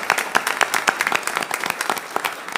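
An audience at a board of trustees meeting applauds the team, with brisk, dense clapping that holds steady across the short stretch.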